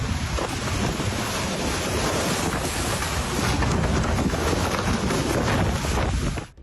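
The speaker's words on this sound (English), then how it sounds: "The storm caused incredible chaos in the harbor where small boats were moored." Strong storm wind roars steadily across the microphone, with waves and water churning beneath it in a harbor with small moored boats, loud and unbroken throughout.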